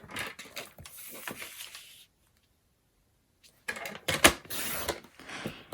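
Designer series paper being cut into 2-inch strips, a close mechanical sliding and clicking in two bursts separated by a silent pause, with no talk.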